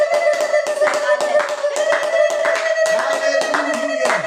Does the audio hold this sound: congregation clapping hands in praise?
yes